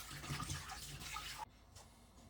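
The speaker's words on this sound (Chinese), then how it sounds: "刮好的土豆，我们先放入清水中清洗，并防止氧化变色。" Peeled potatoes being rinsed in a basin of clean water, a steady splashing and sloshing that stops abruptly partway through, leaving a quieter room tone.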